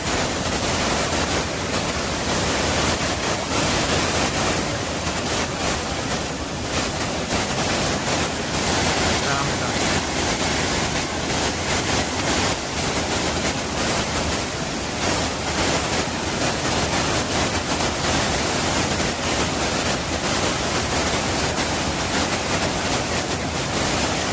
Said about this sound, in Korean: 기암 절벽에 폭포가 양쪽으로